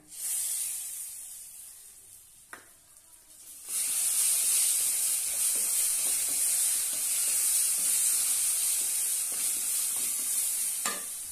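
Blended Alphonso mango juice hits a hot pan of semolina shira, a sweet dish, with a brief hiss and then a steady, loud sizzle as it is stirred. No one speaks.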